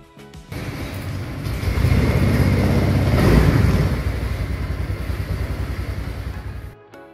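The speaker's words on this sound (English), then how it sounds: "Please run the engine at Relenti mode to test the sensor." A motorcycle engine with a fuel-injection system runs steadily at idle during an oxygen sensor check with a Motoscan diagnostic tablet, a continuous close rumble that swells slightly midway and stops abruptly near the end.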